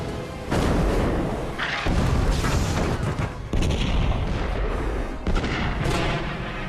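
Naval artillery shells fired at the German battleship Bismarck, heavy booms and thunderous salvos arriving in a few loud bursts that merge into a continuous roar of gunfire.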